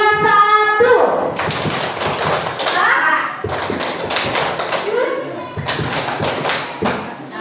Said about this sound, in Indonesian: Sekarang kita ulang satu kali ya. Tepuk 3, 2, 1.